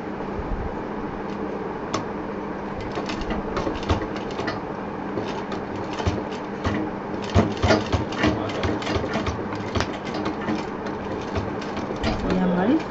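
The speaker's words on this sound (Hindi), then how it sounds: "अब थोड़ा सा कपड़ा हमारा यहाँ मोटा होगा तो बहुत ध्यान से सिलना है ताकि धागा हमारा कटे नहीं।" A sewing machine stitches through thick, layered cloth for a homemade door mat, making a steady close mechanical rattle with brief louder bursts, while a voice talks now and then.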